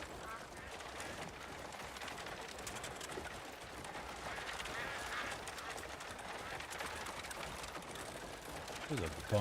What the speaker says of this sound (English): There's a bunch of geese here.